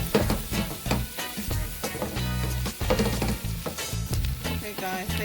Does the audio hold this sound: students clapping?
no